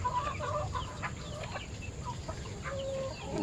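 A hen clucks softly in scattered short calls against low outdoor background noise at a rural farm plot, with the calls faint and spread across the few seconds.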